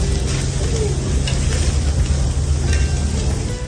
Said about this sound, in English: The sizzling sound as the steak hits the pan marks the beginning of flavor development.